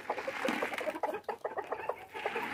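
Chickens and guinea fowl cluck and chatter in a farmyard at late-afternoon feeding time, a close, busy overlapping flock with short repeated calls.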